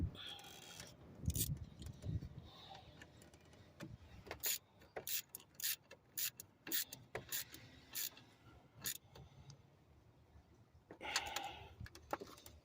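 A ratchet turning a 10mm socket to tighten a bolt on a 2013-2020 Nissan Pathfinder while an air intake hose is refitted: quick repeated sharp clicks in bursts, close and fairly quiet.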